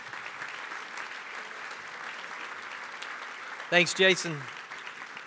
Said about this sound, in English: round of applause for everybody that came, gave their time